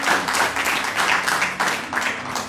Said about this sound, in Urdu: آپ ان کے لیے جو ہے شکریہ ادا کریں تالیاں بجا کر